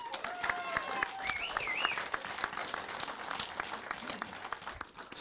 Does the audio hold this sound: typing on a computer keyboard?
no